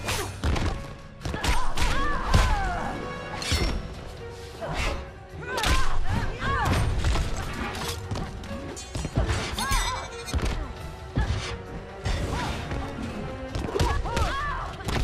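Heavy thuds and crashing impacts as a cannon is thrown and smashes in Injustice: Gods Among Us, repeating several times over a busy, loud background, with brief voices mixed in.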